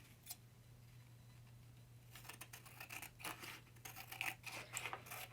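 Scissors cut out a paper journal page, a run of close, crisp snipping and rustling strokes that starts after a quiet second and continues steadily, with no talking.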